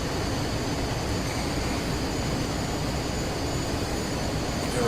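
Jet engines of a British Aerospace Avro RJ100 in a Prepar3D flight simulator during departure, a loud, steady broadband roar with a faint high whine, continuous and unbroken with no voices.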